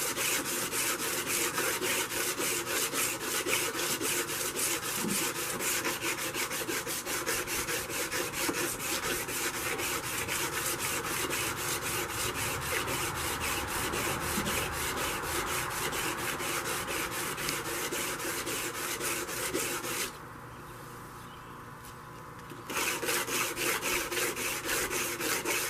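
Coarse abrasive scrubbing grime off a sword blade, a continuous harsh rasping stroke repeated steadily at close range, with one short pause before the scraping resumes.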